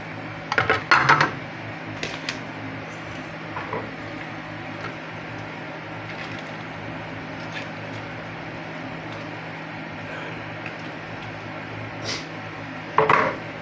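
Tilapia pieces set into a pot for sinigang na tilapia with lemon, giving a few clattering metal and utensil knocks near the start and end over a quiet, steady kitchen background.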